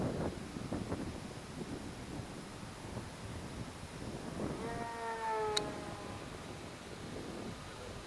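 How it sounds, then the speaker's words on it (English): Strong wind buffeting the microphone during a Durafly Tundra RC plane flight, a steady rumbling roar throughout, with a brief tonal whine rising midway. "That wind's a trip."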